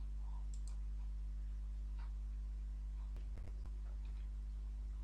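A few soft, quick computer mouse clicks on a submit button while filling an online voter ID correction form, close and faint over a steady low electrical hum.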